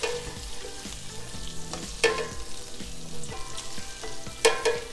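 Swedish meatballs fry in a pan, a continuous close crackling sizzle with scattered pops and clicks of stirring or turning, heard alone without talk.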